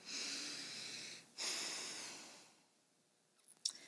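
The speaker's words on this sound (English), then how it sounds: "showing patience could look like taking long breaths, deep breathing through your nose" Slow, deep breaths drawn through the nose, two soft airy inhales each lasting about a second, close and quiet, then fading to a faint rustle.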